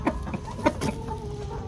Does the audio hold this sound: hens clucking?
yes